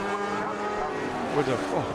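British F1 sidecar racing machines at Knockhill scream past, their high engine notes rising and falling in pitch as they sweep by, while a commentator talks over the noise.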